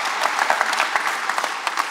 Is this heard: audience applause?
yes